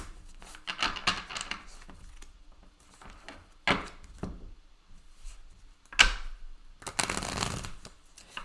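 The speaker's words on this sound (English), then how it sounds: "I'll give it a few shuffles" Tarot cards being shuffled up close, with several riffling bursts and soft flicks separated by brief pauses and no voices.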